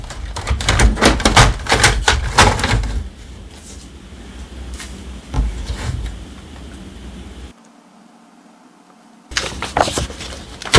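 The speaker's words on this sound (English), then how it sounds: "Open the input tray." The input tray of an HP OfficeJet Pro 8120e-series printer is pulled open, a burst of close plastic clicks and rattles followed by a softer sliding scrape, a short silence, then another clatter.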